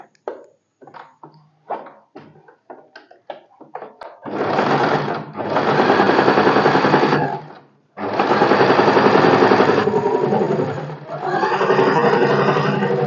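A sewing machine top-stitches along the hook strip of a blouse, running in three long steady bursts with short pauses between them, preceded by soft handling clicks and rustles of the fabric.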